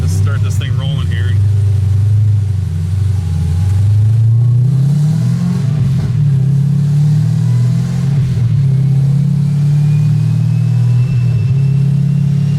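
ZR1 car engine running under load during a tuning run, a loud continuous low rumble that rises steadily in pitch as it revs, with a voice talking faintly over it.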